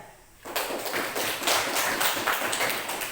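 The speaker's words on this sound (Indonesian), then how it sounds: "Tepuk tangan untuk yang sudah selesai." Applause from a classroom group congratulating those who have finished, a dense burst of many hands clapping that starts abruptly and keeps going steadily at close range.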